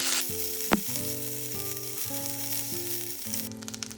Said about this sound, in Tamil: ஸோ இந்த கருவேப்பிலையை நல்லா வதக்கி எடுத்துக்கலாம்.